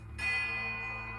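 Bells ring in the fantasy RPG Pillars of Eternity II: Deadfire, a sustained church-bell toll with a long shimmering overtone that swells in after a brief quiet and hangs steadily throughout.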